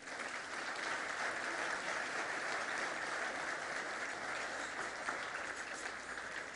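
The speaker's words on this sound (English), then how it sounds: "Please give them a big round of applause." An audience at a presidential gala breaks into sustained applause, dense and even from start to finish, a steady wash of many hands clapping with no voices rising above it.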